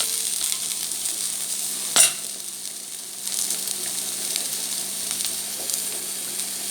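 Pieces of broad bean frying with grated coconut in a pan, a steady soft sizzle with a brief sharp stir clatter near the start and no talk.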